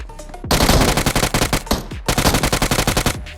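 Automatic weapon fire in the mobile battle-royale game BGMI (PUBG Mobile): two long, loud bursts of rapid, evenly spaced shots separated by a brief pause, close and dominant.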